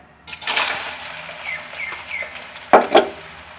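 Onions dropped into hot oil in a home kitchen, a loud sudden sizzle that settles into steady frying, followed by a couple of stirring clatters near the end.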